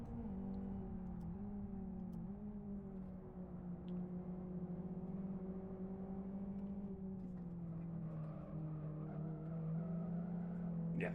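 Race cars circling in the Live for Speed sim racing game, a steady loud engine drone with shifting pitch as they accelerate and brake, continuous throughout with occasional tire noise and faint background speech.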